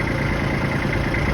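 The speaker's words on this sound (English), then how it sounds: "This little tractor ain't got much." A small tractor's engine idles steadily at close range, a continuous low rumble with even mechanical vibration and no talking over it.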